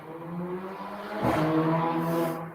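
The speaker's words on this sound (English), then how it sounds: "Oh, noisy cars." Noisy cars pass outside, one rising to a loud whooshing sweep midway before fading again, with engine hum in the background.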